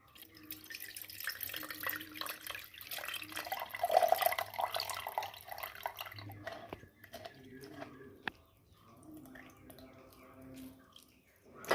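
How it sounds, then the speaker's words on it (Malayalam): Squeezed tamarind water is strained for a Kerala-style tamarind curry, with trickling and dripping liquid mixed with soft wet squelching and handling noises close by, fading to quieter drips. "ഈ പിഴിഞ്ഞ് വെച്ച പുളി നമുക്കൊന്ന് അരിച്ചെടുക്കാം"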